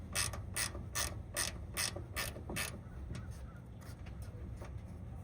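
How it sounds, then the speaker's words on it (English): A ratchet works a factory bolt off an L bracket on a newer van, giving about seven close, evenly spaced ratcheting bursts that then fade into quieter fiddling over a low background hum. "So you're just taking the factory bolt off the other side for the other bracket, right?"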